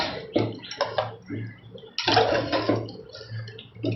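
Boiled mutton and its cooking water are poured into a pan of masala, giving a close, steady splashing and sloshing of liquid for several seconds.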